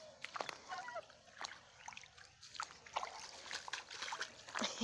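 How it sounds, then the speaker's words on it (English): A pet goose splashes in water, giving soft, scattered splashes and trickles that come and go close by at low volume. "Everybody wants to see you splashing."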